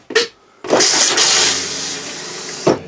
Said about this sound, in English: It's foot flush, yes.